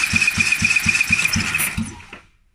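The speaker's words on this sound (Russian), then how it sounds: "Замер компрессии двигателя. Автомобиль Nissan Micra." A 2010 Nissan Micra with a 1.2-litre CR12DE engine and 168,440 km cranks during a compression test on cylinder one: about six even, rhythmic turnover pulses under a steady whine, then it stops abruptly.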